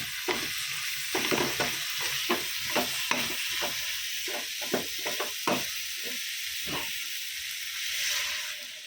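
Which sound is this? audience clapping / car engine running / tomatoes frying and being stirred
tomatoes frying and being stirred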